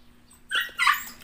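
A dog nearby gives two short, sharp barks or yips in quick succession against a quiet room during a sizzling seafood mukbang.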